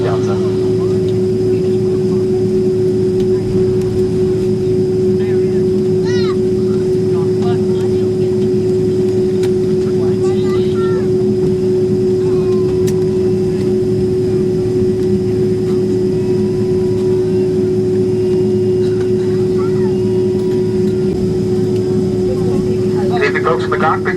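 Delta Boeing 767-300ER jet cabin at Atlanta Hartsfield as it prepares for takeoff, a loud steady engine roar and hum throughout with faint cabin sounds.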